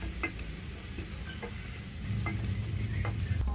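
Tomatoes and tomato paste stirred together in a pot on the stove, soft sizzling with repeated scraping strokes of a spoon, close and fairly quiet, no talk.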